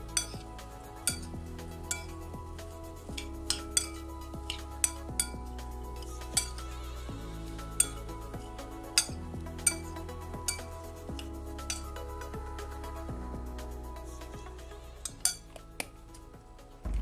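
Utensils stir and scrape in a dish of salad made with sliced pancakes and ham, dressed with salt and vinegar, producing repeated light clinks and taps over a soft steady background with music-like tones.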